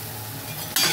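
Bread pakora deep-frying in hot oil, a steady close sizzle for the whole second that swells suddenly louder and brighter near the end, as if the fritter is turned over.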